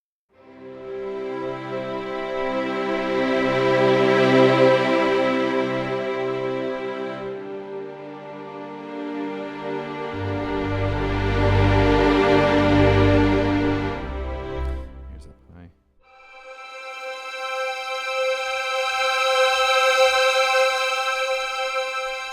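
CineStrings CORE string ensemble chords swell up and fade back down in repeated looped crescendos and diminuendos, with a deep bass layer entering midway and a brighter sustained chord after a brief dip.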